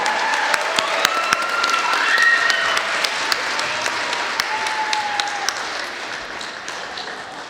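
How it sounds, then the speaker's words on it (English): Audience applause at a school music concert after a band with saxophone and trumpet players, dense clapping with a few sharp nearby claps standing out, loud and steady before slowly tapering. "Another round of applause for all of our performers tonight."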